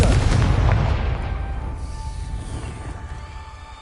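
Confringo blasting spell explosion in Hogwarts Legacy, a heavy booming blast that opens loud and deep, then rumbles and fades away over a few seconds, with no talking.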